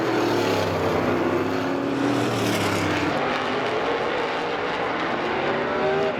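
Race cars roar around an oval raceway, a loud sustained engine whine with pitch sweeping down as cars pass close, then fading into a steadier, more distant drone.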